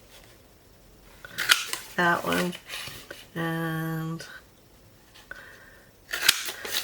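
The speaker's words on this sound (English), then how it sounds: "I'm using my little teeny hole circle puncher and just punching it." A tiny circle hole punch pressing through paper, giving a few sharp separate clicks and crunches among soft handling sounds, with a short buzzy tone in the middle and someone speaking briefly.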